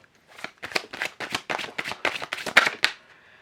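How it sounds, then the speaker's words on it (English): Rapid riffle shuffling of tarot cards, a quick series of crisp flapping bursts close by, about a dozen in a row, ending abruptly. "I will do a couple shuffles"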